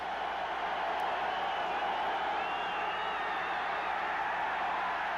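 A constant, dense roar from a stadium crowd at the end zone during a 1989 Falcons at Packers NFL game in Green Bay, loud and unbroken throughout with no distinct voices.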